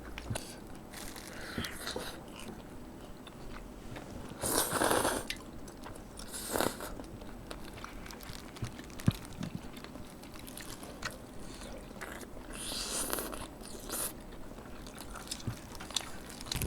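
Close, moist biting and chewing of carrot from a spicy Korean braised chicken stew with glass noodles, with soft crunchy bites and a few louder chomps spread across a quiet room.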